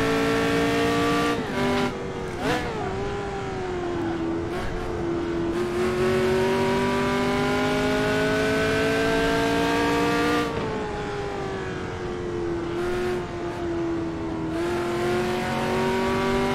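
A prototype race car in Assetto Corsa roars continuously at high revs, its engine pitch climbing and dropping through gear changes, loud and steady throughout with no speech.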